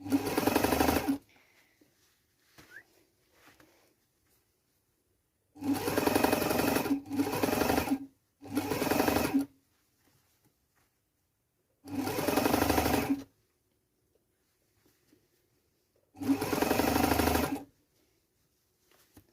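Sewing machine stitching a fabric scrunchie, several short bursts of rapid mechanical whirring separated by silent pauses, close and loud.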